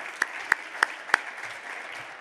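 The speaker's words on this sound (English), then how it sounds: "Now, I think that deserves a round of applause in itself." A sparse handful of claps rings out at a community organisation's event, four distinct sharp claps over a faint murmur of light clapping, fairly quiet.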